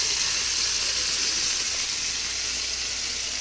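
Bacon-wrapped filet mignon sears in a hot pan, giving a steady, close, even sizzle and hiss that holds without a break.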